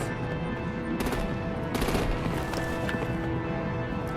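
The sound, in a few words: gunfire in video game Batman: The Enemy Within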